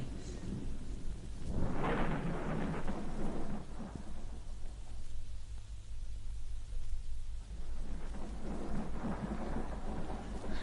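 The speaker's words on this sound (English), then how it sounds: "This exasperating thunder at least has the advantage of covering the sound of our approach." Thunder rolls through a rainy storm scene in an audio drama, one big rumbling crack building and fading over steady rain hiss, with no dialogue over it.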